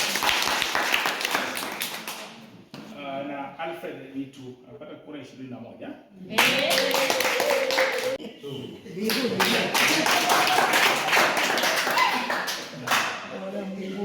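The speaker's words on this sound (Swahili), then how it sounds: "Pigieni makofi" An audience claps at an election vote count, with two bursts of fairly loud group applause separated by a voice announcing results, and more speech running over the clapping.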